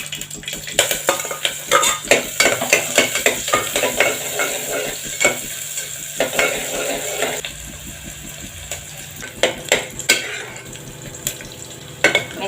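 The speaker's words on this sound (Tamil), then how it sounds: "வெங்காயம் கொஞ்சம் வதங்கவும்" Onions sizzle in hot sesame oil with cinnamon and cloves, a steady fry under repeated stirring and scraping of a metal spoon against the pan, with clinks across the whole stretch.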